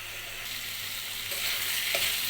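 Bottle gourd frying in a pan with salt added, a steady hissing sizzle that swells slightly partway through, close and even, with a faint tap near the end and no voices.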